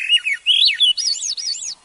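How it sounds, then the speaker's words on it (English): A bird gives a rapid series of high, thin chirping flight calls, loud and close, with no other sounds. "Flight calls are very distinct from bird song."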